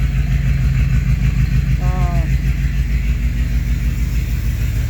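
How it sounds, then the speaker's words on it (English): A 1985 Chevrolet K20 truck engine idling loudly, a steady deep rumble heard up close and continuous, with a brief voice over it. "So the engine seems healthy, but it's noticeably loud. It's definitely not a quiet truck."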